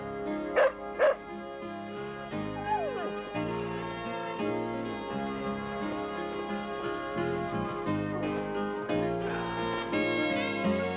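A dog barks twice sharply near the start, then yips and whimpers faintly under a continuous orchestral film score.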